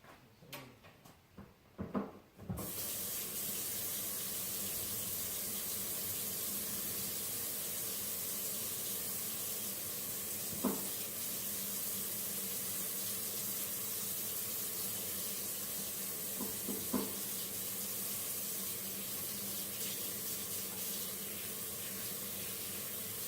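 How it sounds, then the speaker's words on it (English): A kitchen tap bursts on after a couple of clunks and runs in a steady, close hiss for about twenty seconds while hands are washed, with faint splashes and knocks underneath and no talk. "I'm going to wash my hands"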